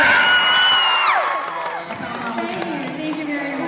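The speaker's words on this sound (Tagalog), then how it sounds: "Pumalakpak lahat ng hands po." A crowd at a Rock Rider jeans meet-and-greet event at SM Pampanga cheers and whoops, with high shouts sliding down in pitch, then quieter crowd noise and chatter continue underneath.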